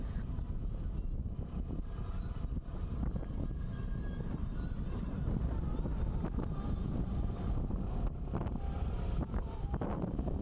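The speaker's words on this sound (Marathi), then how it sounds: "अतिशय वारं असतं हे कारण उंचावर आहे" Strong wind on a high hilltop buffets the microphone with a constant low roaring rumble, steady and close throughout with gusty fluctuations.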